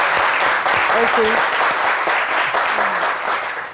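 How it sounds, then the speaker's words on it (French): An audience claps steadily and fairly loudly throughout, with a few voices briefly heard over the applause. "on va l'applaudir"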